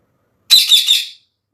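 A pet parrot lets out one loud, harsh squawk lasting under a second, close by and alone against silence.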